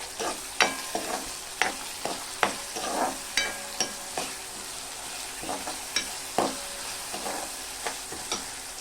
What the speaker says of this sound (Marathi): व्यवस्थित परतून घ्यायचं आहे